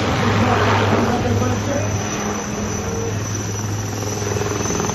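An Indian Army Aviation Corps HAL ALH Rudra military helicopter flies nearby, its loud continuous rotor and turbine drone steady throughout with a faint high engine whine.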